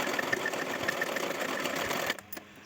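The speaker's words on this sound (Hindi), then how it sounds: "एक बार सिलाई लगा लेनी है।" Sewing machine stitching a fold of princess-cut blouse fabric, a fast steady mechanical whir with rhythmic ticking, close and continuous for about two seconds before stopping abruptly.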